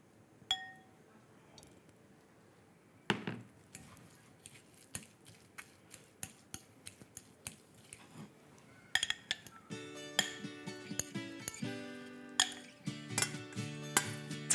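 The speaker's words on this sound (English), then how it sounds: "Just mash it with a fork" A fork mashes cooked potato and spinach filling for spanakopita, giving soft irregular clinks and scrapes against a bowl that grow busier and more metallic toward the end, with no talk.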